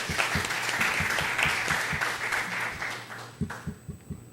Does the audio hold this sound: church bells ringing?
no